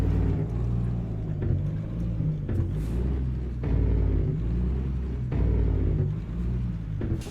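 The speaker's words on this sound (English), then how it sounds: "I hear the train." A train rumbles through a Louisiana setting in American Truck Simulator, a deep, steady low-frequency roar that stays loud and continuous, with a few brief louder swells.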